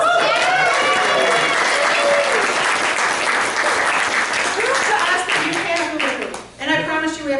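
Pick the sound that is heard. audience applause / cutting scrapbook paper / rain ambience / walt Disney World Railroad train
audience applause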